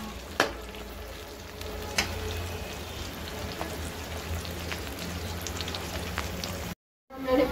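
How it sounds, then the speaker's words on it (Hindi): Onions frying in a pan, a soft continuous sizzle with occasional light spatula taps, a brief dropout of silence near the end before the crackle returns, no voices. "प्याज को अच्छी तरह फ्राई करते हैं"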